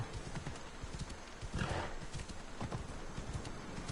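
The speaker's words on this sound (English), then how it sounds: "Let's get on our impossible horse here" Horse hooves clip-clop at a steady trot in Assassin's Creed Odyssey, with a brief whinny partway through, all fairly quiet against faint game ambience.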